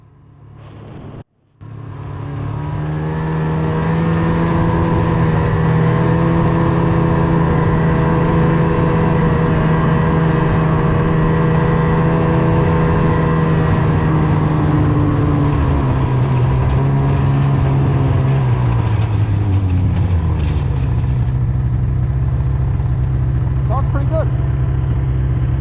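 A rebuilt Ski-Doo 600 HO SDI two-stroke snowmobile engine starts and runs loud and close at a steady idle, a throbbing drone that holds and then drops as it slows toward shutdown.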